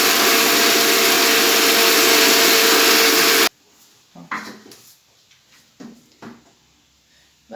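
A mixer grinder whirs loudly and steadily for about three seconds while finely grinding pepper rasam ingredients, then cuts out abruptly, leaving scattered faint clinks and handling noises.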